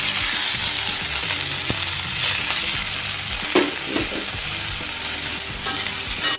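Bean sprouts and tuna stir-frying in a pan give a steady close sizzle throughout, with occasional scrapes and clacks of the spatula stirring through it and no talking.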